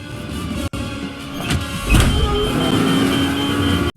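A car aggressively tailing a bus in the horror film Fear Street: a loud, continuous engine drone with rising revs and a brief bump midway, close and dominant, with no speech.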